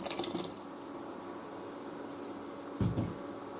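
Diluted tomato juice pours steadily into a jar, a soft continuous splashing trickle close by with a brief louder gush near the end; no voices.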